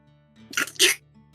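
One sharp sneeze, a short intake then an explosive burst, in an otherwise quiet room with a faint hum.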